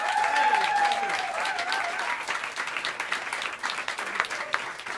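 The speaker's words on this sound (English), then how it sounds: "How about a round of applause for this great band one more time?" An audience at Smalls Jazz Club claps for a jazz quartet, the applause loud and dense at first, then thinning out and tapering off over several seconds in the small room.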